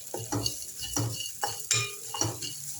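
Grated coconut roasting in a pan with oil, stirred by hand for a Sri Lankan fish curry, with several rhythmic scraping strokes of a utensil over a soft sizzle, close and clear.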